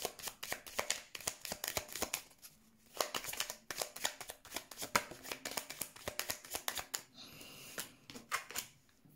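A deck of Lenormand fortune-telling cards being shuffled up close: repeated quick riffling and flicking bursts in a steady rhythm, with short pauses between rounds.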